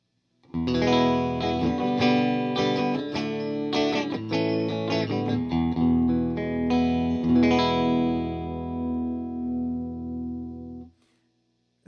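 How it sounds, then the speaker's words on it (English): An electric guitar, a Fender Jaguar Johnny Marr partscaster played through a Vox AC30 amp, strums a quick busy chord pattern with lightly driven, chiming tone, then lets the final chord ring and fade. "And the Vox C30 will sound like this."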